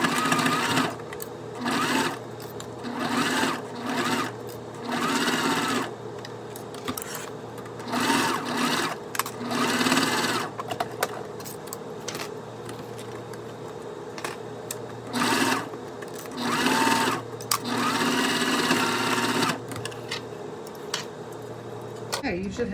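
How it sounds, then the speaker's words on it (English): A sewing machine stitches an eighth-inch seam around a fabric Wonder Bag in repeated bursts of rapid whirring, pausing between runs, while a person talks intermittently nearby. "we're gonna sew around both sides at 1/8 of an inch"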